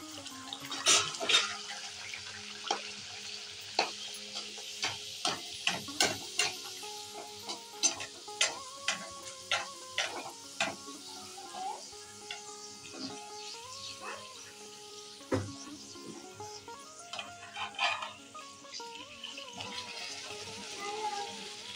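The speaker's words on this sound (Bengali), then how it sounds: "সব কটা লেচি এইভাবে বেলে নিয়েছি, এবার ভেজে নেব। তেল গরম হয়ে গেছে, এখন দিয়ে দিচ্ছি।" Kachori dough balls deep-frying in hot oil, a steady bubbling sizzle broken by frequent sharp clicks and clatters of a spoon or strainer, fairly close and with no one speaking.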